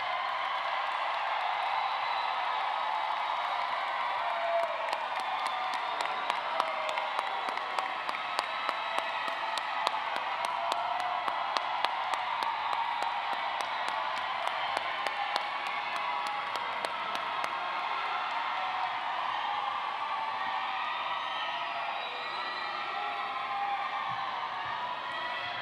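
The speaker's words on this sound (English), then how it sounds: "I want to give everyone an opportunity to stand up, yell, and cheer as loud as you can for this class" Graduation crowd at Berea High cheering and yelling for the graduating class, a steady, dense roar of many voices with scattered claps and whoops throughout, sustained and fairly loud from start to finish.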